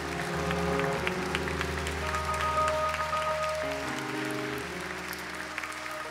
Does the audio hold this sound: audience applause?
yes